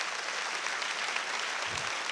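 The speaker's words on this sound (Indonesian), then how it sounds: "Tepuk tangannya yang paling meriah buat Tuhan kita." Applause from a large congregation fills a church during a worship service, a continuous wash of clapping that holds steady throughout, with a low thump near the end.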